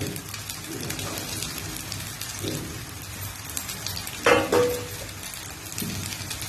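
Chowmein noodles poured into a hot pan, a patter of sizzling and crackle with a sharper burst of clatter and hiss midway, close and moderately quiet.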